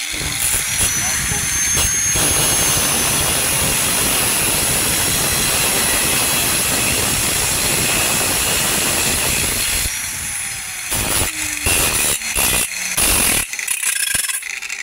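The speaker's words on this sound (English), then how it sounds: "now I'm just going to grind them off. Make sure they're flat and not sharp." An angle grinder cutting bolts flat on a canopy frame gives a loud, continuous metallic roar that runs for about ten seconds. It then breaks into short bursts and taps, and a voice talks during the clip.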